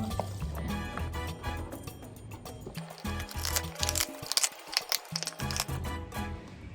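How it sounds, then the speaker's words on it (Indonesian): Tap water splashes and gurgles as it is poured into containers, the pitch shifting as each fills, with intermittent knocks and drips. "Tiga wadah diisi dengan air keran dan 1 wadah dibiarkan kosong."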